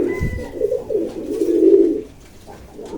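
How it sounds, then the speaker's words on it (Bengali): Jalali pigeons coo nearby in a loft in low, throaty rolling calls, one long burst swelling then fading, with a faint chirp in the background. "এই যে আমার জ্বালালি কবুতর"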